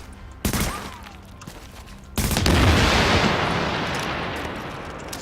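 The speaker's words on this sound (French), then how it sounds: "Ça explose." A red explosive object blows up in The Division, a sharp blast followed by a louder booming explosion whose rumble decays slowly over several seconds, with a smaller report just before.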